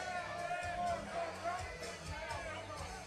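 Rowdy crowd at a Muay Thai catchweight fight event as a fighter walks to the cage, a steady roar of cheering and babble filling the space, with voices calling out over it throughout.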